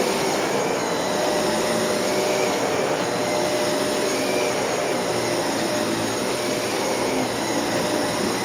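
A Dyson Cinetic Big Ball vacuum cleaner runs at a steady, loud, close-up whir with a constant high whine and rushing airflow throughout, and no voices over it.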